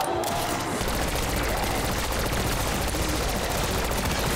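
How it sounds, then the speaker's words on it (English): Boss enemy gunfire in Call of Duty: Black Ops 6 Zombies, a loud continuous barrage of rapid shots and blasts that runs without pause after a brief quieter start. "He's shooting."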